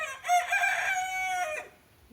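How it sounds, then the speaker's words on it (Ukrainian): A single rooster crows nearby, one loud, drawn-out call lasting over a second before tailing off, with no talking. "ну ще півень хоче щось сказати"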